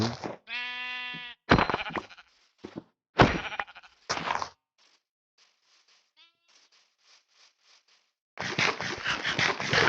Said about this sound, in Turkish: Hemen o koyunlar var hemen.